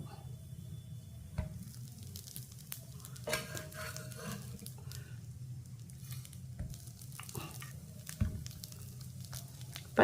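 A weight-loss cutlet flipped and frying on a dosa griddle, giving a soft steady sizzle with occasional spatula scrapes and taps, faint and close, no talk.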